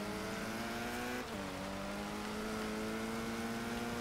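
A Talbot car engine in the racing game Forza Horizon 3 drones loudly and continuously in cross-country racing. Its pitch dips briefly at a gear shift, then holds a sustained high rev, and no voices are heard.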